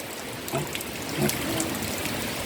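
Spring water flowing steadily from a natural source at a rural water point in the Philippines, a soft continuous trickle and gurgle with faint background noise and no talking.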